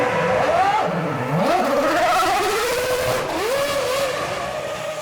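A Formula 1 car on fresh slick tyres squeals and slides, tyre scream rising and falling in pitch over a loud, constant engine roar.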